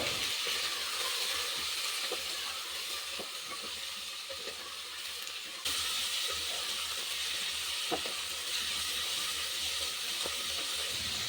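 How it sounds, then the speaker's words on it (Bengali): Cut potato, carrot and peas frying over medium heat and stirred constantly, a steady hissing sizzle with occasional utensil clicks and a slight shift in level midway. "অনবরত নাড়াচাড়া করে এক মিনিট মতো ভেজে নেব সমস্ত সবজিগুলো"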